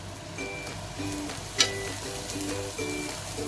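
Oil sizzling in a pan under a frying potato flatbread made from mixed flour, a steady close crackle with one sharp pop in the middle, alone and with no talking.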